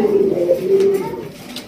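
A large Raj Golla pigeon gives a deep, throaty coo close by, a rolling low call lasting about a second, with faint room noise after it.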